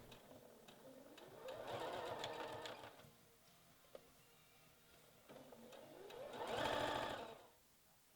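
A sewing machine runs a straight stitch along bikini bottom seams at a quarter-inch allowance, in two swelling bursts of motor hum and needle chatter separated by a quieter pause, close by and without speech.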